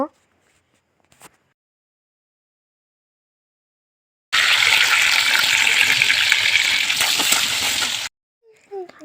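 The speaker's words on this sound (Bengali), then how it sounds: "কড়াই গরম হয়ে গেছে তেল দিয়ে দিলাম প্রথমে আলুটাকে ভেজে নেব" Potatoes hitting hot oil in a heated kadai give a sudden, loud hissing sizzle. It bursts in after near silence, holds steady for about four seconds and then cuts off, with faint scattered clatter around it.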